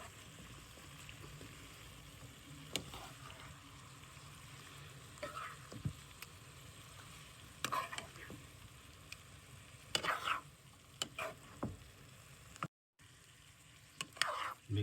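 A shrimp and broccoli Alfredo sauce is stirred in a pan with quiet scraping and soft bubbling sizzle, occasional spoon clinks and brief louder swirls against a low steady simmer.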